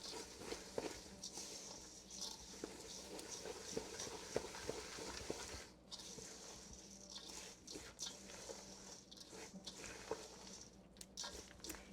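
Oats and other granola ingredients are stirred through oil in a bowl, producing a continuous close, soft crunching scrape with uneven pulses and occasional sharper rustles.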